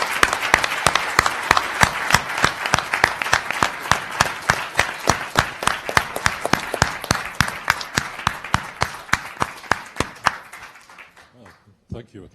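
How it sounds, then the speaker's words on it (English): An audience at a conference panel on psychiatric treatment claps in rhythmic unison, steady and loud for about ten seconds before it thins out and fades to a few scattered claps. "I think we should give Einar a big applause because he has made this conference and got"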